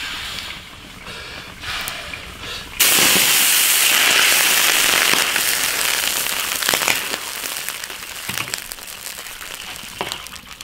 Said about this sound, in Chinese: 炒到它冒泡